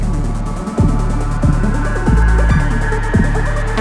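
Electronic music plays with a pulsing synth bass and repeating beat, steady and loud, no voices.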